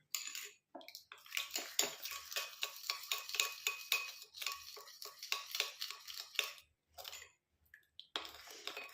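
Herbal powder being stirred into oil in a container, heard as quiet, rhythmic scraping and clinking strokes in close succession, with a few short pauses between bursts.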